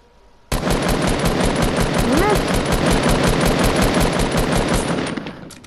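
Video game machine gun fire, a loud, rapid, unbroken burst that starts abruptly and runs about five seconds before tapering off, with a voice briefly heard under the shots.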